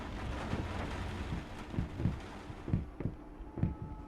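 Steady rain pours in the horror video game Layers of Fear, a dense wash of noise with soft low thumps pulsing through it, no talking.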